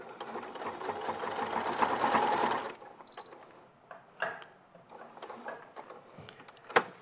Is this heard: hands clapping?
no